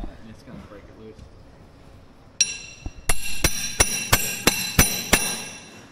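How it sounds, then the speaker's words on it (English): Heavy-duty socket on a bolt of an Oshkosh HET M1 recovery wrecker being struck with a hammer: about eight sharp metallic blows in a steady rhythm, close and loud, starting with a single ringing hit after a quieter stretch of background noise. "Let me hammer it on there?"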